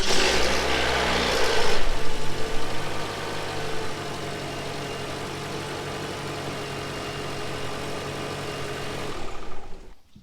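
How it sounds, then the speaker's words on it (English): A Toyota RAV4 engine fires up with a brief louder burst of cranking and revving, then settles into a steady, even idle that runs close and continuous to the end with no talk. "I'm going to start the engine real quickly, let it circulate a little bit"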